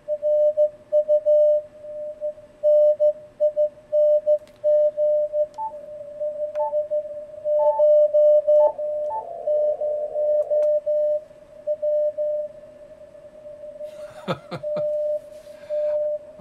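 Ham radio signal received on a Yaesu FTdx10 through its IF DSP: a steady, keyed single-tone Morse signal with short and long beeps over faint hiss, plus a brief burst of static near the end.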